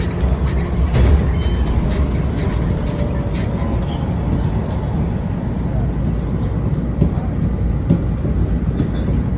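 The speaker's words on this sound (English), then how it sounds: "We were speeding through an underground tunnel." A Washington Metro train runs steadily through an underground tunnel toward the exit, with a continuous loud rumble and faint rail clatter throughout.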